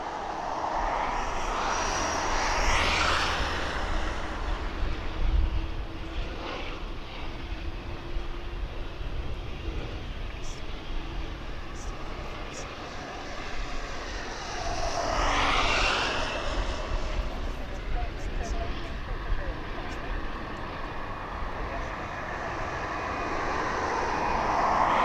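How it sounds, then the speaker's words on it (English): A TUI jumbo jet taking off at East Midlands Airport, its broad engine roar swelling in two waves and holding steadily from moderate distance, with no voices over it. "Come on, TUI, hurry up and take off, because everybody wants to see this jumbo."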